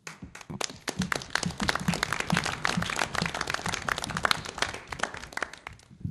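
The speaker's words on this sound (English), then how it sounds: "I ask all of us to give a round of applause for the colleges that host CUNY's associate degree programs" Steady applause fills a board of trustees meeting hall, dense clapping from an assembled audience at close range, sustained for several seconds with no talk over it.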